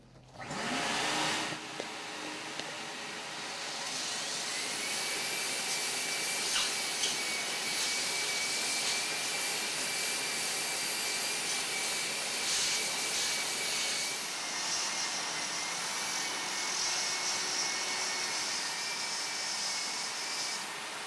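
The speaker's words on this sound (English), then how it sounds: "the sound produced from the hand grinder" A loud, steady high-pitched grinding whine from a hand grinder grinding a garage floor coated with polyurea joint filler runs nearly the whole time after a brief start, close and continuous with no talking.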